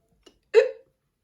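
A single close hiccup from a person, a faint catch of breath followed by one short, sharp voiced hic, then silence.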